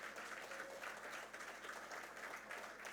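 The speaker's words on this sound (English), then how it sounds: "we should give them a big, big round of applause." Audience applause at a business event celebrating a company's 90 years, a dense continuous patter of many people clapping, fairly quiet and steady throughout with no speech over it.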